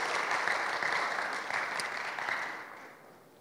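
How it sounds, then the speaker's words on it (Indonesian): Audience applause at an Indonesian youth workshop on managing anger: dense, steady clapping from a roomful of people that holds strong, then thins and fades toward the end. "Kasih tepuk tangan, give it up guys."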